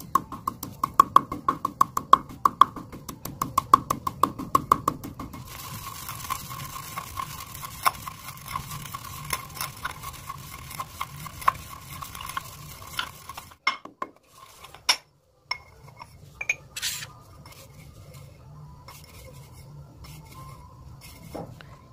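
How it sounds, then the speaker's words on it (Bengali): Sesame seeds being crushed by hand, hard grinding and scraping strokes in an uneven rhythm, busy at first and then sparser with brief pauses, close and fairly loud with no voices. "এরপর এই তিলগুলিকেও থেতো করে নেব।"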